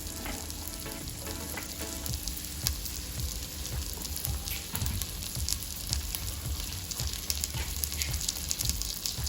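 Diced carrots and potatoes fry in hot oil in a pan for a colourful biryani, a continuous close crackling sizzle with occasional stirring scrapes and no talking.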